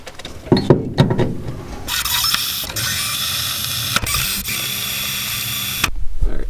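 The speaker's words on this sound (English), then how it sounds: "We can go ahead and drill our 1/8 pilot hole" A power drill whines steadily as it bores a 1/8-inch pilot hole into metal on a 1965 Comet suspension, a continuous grinding rasp lasting several seconds after some brief handling noises.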